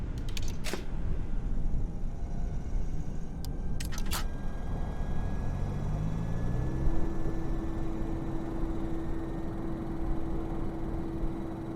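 Fokker 28 airliner in a flight simulator game powering up on ground power: a few sharp clicks, then a steady electrical hum and rising whine with a tone that settles and holds, no talk.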